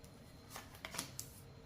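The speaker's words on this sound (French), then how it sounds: "on va poser les 11 cartes" Tarot cards are laid out one by one for a reading, giving a few faint soft slaps and brushes of card on a surface against a quiet room background.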